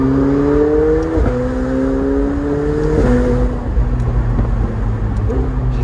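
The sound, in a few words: McLaren turbo engine exhaust while driving with top down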